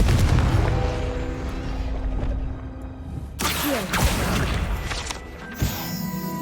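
A Confringo fire-blast spell bursts in Hogwarts Legacy, a single sudden explosive crash over a rumbling game soundscape, followed by a few fainter crackles.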